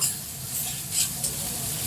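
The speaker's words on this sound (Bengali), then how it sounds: "পেঁয়াজ ভাজা হয়ে গেছে" Onions frying in a kadai for a fish curry, a steady close sizzle with stirring scrapes and a few brighter spatters over about two seconds.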